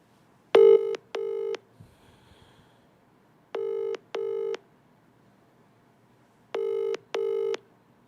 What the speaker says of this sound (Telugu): మళ్ళీ ఫోన్ చేస్తా, చివరిసారి చూద్దాం లిఫ్ట్ చేస్తుందా చేయదా